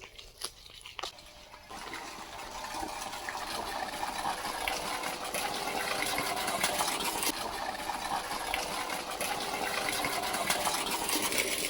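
A water pump motor runs steadily at a farm well, a continuous broadband whirring and watery rush that starts sharply and holds at even loudness throughout, with no voices.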